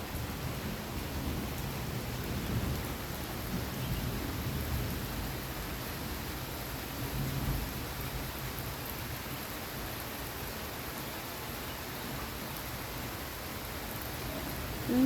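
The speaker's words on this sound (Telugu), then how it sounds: "ఫుల్ వర్షం, ఫుల్ వర్షం." Heavy rain falling in Warangal, a steady, even rush of downpour with a low rumbling undertone, continuous and fairly distant throughout.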